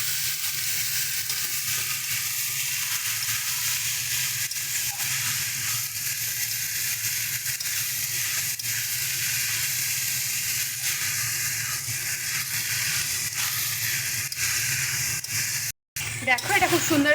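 Banana flower and chickpeas sizzle steadily in a hot pan while being stirred and mixed, a continuous close frying hiss with scraping, broken by a brief cut near the end.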